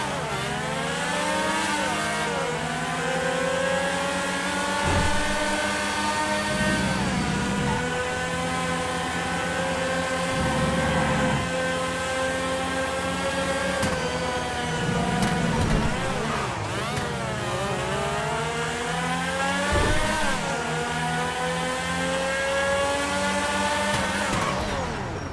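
A Taurus being test-driven in a video game: its engine note climbs and drops repeatedly through gear changes, revving loud and steady with no voices heard.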